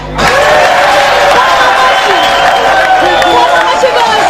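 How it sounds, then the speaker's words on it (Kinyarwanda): A large concert crowd in Muyinga applauds and cheers loudly and continuously, a dense wash of clapping and shouting with a steady level throughout and sustained tones from music or voices carrying over it. "amashyi rwose"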